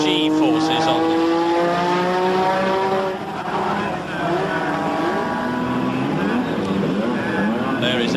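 Ayrton Senna's Lotus Formula 1 car with its V6 Renault turbo engine, at Brands Hatch qualifying in 1986, screams loudly through rising and falling gear changes, with other engine whines sweeping past as a commentator talks over it.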